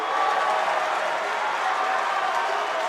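Crowd noise from a basketball arena during a FIBA CBC Women's Championship game between Jamaica and Guyana, with Guyana fans on their feet. A steady, dense roar holds at one level throughout, with no single voice standing out.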